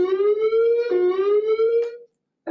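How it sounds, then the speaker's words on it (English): Indoor building fire alarm test: a loud, steady electronic alarm tone with rich harmonics sounds alone for about two seconds, wavers briefly once partway through, then stops; after a short silence the next burst begins. "apologies, we have a fire alarm test"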